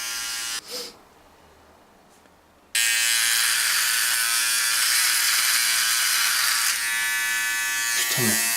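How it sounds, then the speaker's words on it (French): A Philips trimmer-shaver switches on with a click and runs as a steady, close, high-pitched electric buzz for several seconds after a quiet stretch, with a brief voice before it starts. "de Philips est un savant mélange entre tondeuse et rasoir"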